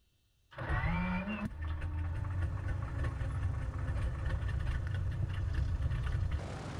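A Hughes H-1 Racer aircraft engine in Microsoft Flight Simulator cranks and catches, then settles into a steady, loud droning rumble that continues without pause.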